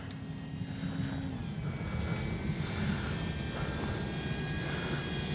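A radio-controlled airplane engine drones steadily overhead, a constant buzzing hum at moderate distance that holds level throughout with slight swells, no talk over it.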